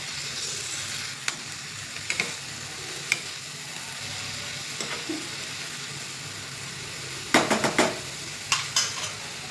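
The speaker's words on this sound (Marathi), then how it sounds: "आता सगळीकडे छान असं हलवून घेते. सगळीकडे छान मिक्स करून घ्यायचं." Fenugreek greens (methi bhaji) sizzle steadily in a pan while a spoon stirs them, giving scattered metallic scrapes and a quick burst of clattering strokes toward the end, heard up close.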